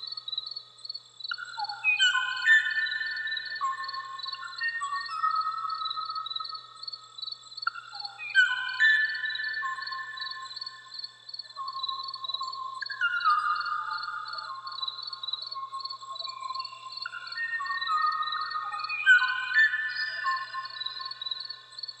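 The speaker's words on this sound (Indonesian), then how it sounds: "rekaman terakhir suara burung Kawaii-Oo jantan yang memanggil-manggil betina dari spesiesnya" A male Kauai oo bird sings clear, descending whistled phrases in repeated bouts, alone against a steady high chorus of insects.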